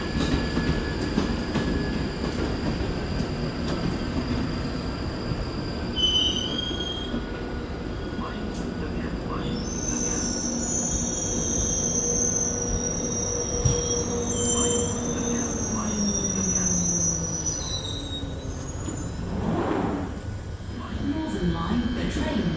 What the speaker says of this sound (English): Northern Line, the train now approaching is to Edgware